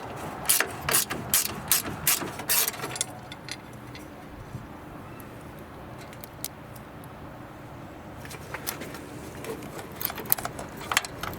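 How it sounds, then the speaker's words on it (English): Ratchet wrench loosening the battery bracket bolt on a Scion tC, with bursts of quick close clicking at the start and again near the end, separated by a quiet stretch of faint handling noise. "Now I will remove this bolt."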